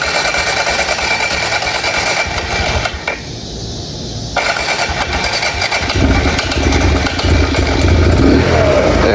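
A motorcycle engine cranks, catches and runs with a steady, loud mechanical drone. It drops out briefly partway through, then picks back up and grows rougher and louder toward the end.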